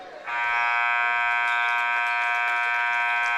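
A basketball game clock buzzer sounds in a high school gym after play winds down, a loud, steady electronic tone that starts abruptly and holds unbroken to the end.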